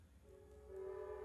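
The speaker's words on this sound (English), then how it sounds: "I like hearing the train in the background." A train horn sounds faintly in the distance, a steady, rising tone under quiet room noise during an indoor movement class.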